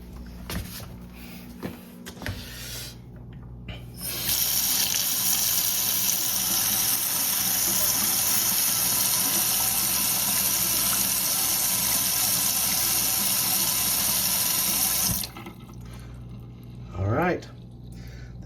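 A kitchen faucet runs water in a steady, loud rush for about eleven seconds after some brief handling knocks, then cuts off, followed by faint movement and a short rising squeak.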